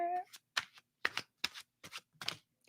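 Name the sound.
shuffling cards during a reading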